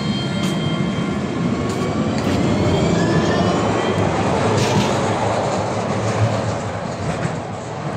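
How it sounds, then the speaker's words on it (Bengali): Riding a tram in Paris: a loud, continuous rolling rumble from inside the car, with faint rail squeals and clicks over the steady roar. "আমাদেরকে ট্রাম নিতে হচ্ছে"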